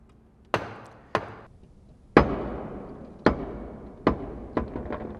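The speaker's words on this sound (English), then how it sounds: "We're going to try and see what this does when we bounce our golf ball onto it." A golf ball bounces on a lightweight aluminum plate, producing about seven sharp metallic impacts that come closer together as the bounces shrink. Each ring decays briefly in a quiet room.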